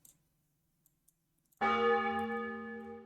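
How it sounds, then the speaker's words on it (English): Bell sound effect for an item pickup in a game, a single bright ring struck after near silence, ringing out with a long, slowly decaying resonant tail. "A quick bell sound."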